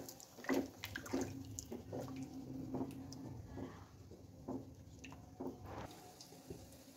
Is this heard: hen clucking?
no